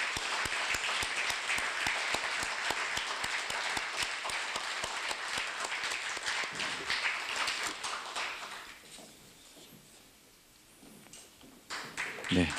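Audience applause at a Korea University auditorium renovation completion ceremony, dense clapping that thins into scattered claps and fades before a brief final swell.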